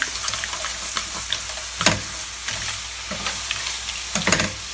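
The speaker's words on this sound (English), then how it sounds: "Give it a good stir. Tomato puree going." A pan of sizzling tomato puree stirred for lobster mac and cheese, steady close crackle with several sharp scrapes and clacks of the spoon against the pan, no voices.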